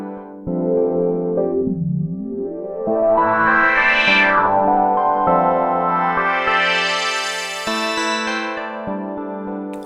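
A distorted synthesizer plays sustained notes while a filter sweeps down, then up, then slowly rises and falls again, giving a gritty wah-like tone.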